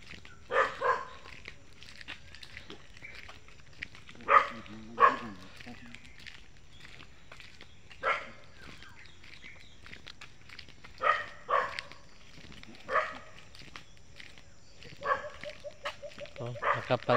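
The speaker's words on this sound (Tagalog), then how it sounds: "May aso rin." A dog barks in scattered short bursts, some doubled, at moderate distance over a quiet outdoor background.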